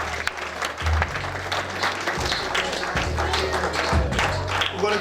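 At an awards banquet, a crowd claps in a dense, sustained round of applause, with a low humming tone running underneath.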